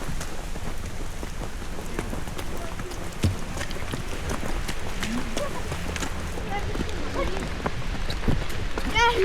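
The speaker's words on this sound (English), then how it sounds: "Nice and rainy day today." Steady rain falls on the Grouse Grind trail, a dense continuous hiss and patter that stays at an even level throughout, with a few brief knocks and drips standing out near the end.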